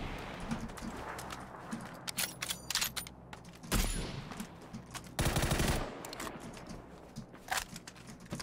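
PUBG gunfight: sharp rifle cracks, including M24 sniper fire, come in bursts and single shots at varying distances, some loud and close, others more distant, with brief gaps between them.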